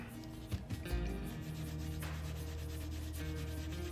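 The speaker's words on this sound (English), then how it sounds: "I'm polishing it with this wonderful clean cloth that you've got hands on." A clean cloth rubs steadily over brushed paint to polish it, giving a continuous close scuffing sound over a low hum, with a few soft bumps near the start and no talking.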